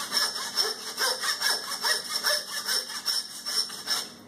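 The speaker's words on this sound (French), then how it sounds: "je scie ici. Voilà, pour couper l'os de la hanche en deux" A hand saw rasps back and forth through a beef hip bone in steady rhythmic strokes, close and loud, with no voices.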